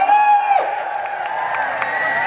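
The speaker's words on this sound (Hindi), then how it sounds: "एक बार जोरदार तालियां और राजस्थानी कल्चर के लिए हल्ला हो गया हो" An audience at a stage event featuring a Rajasthani Marwari folk dance troupe cheers and applauds after a brief sustained tone, the crowd noise a broad, steady roar.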